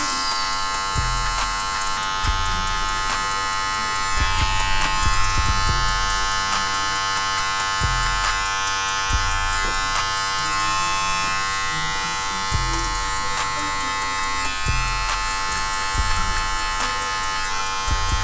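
Electric hair clippers with no guard run continuously at close range, a steady loud buzz with rhythmic dips and swells as the blade passes through hair during a haircut.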